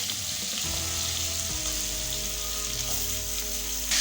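Small potato pieces frying in fish-frying oil tempered with cumin seeds and bay leaf, a steady close sizzle and crackle that swells as the potatoes drop in, with no talking.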